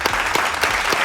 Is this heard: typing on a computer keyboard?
no